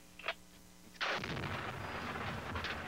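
Blast from 172 kg of explosives demolishing a mined bridge on a road near Sarajevo: a sudden loud boom, then a long, rumbling wash of debris and noise lasting several seconds, after a faint pop beforehand.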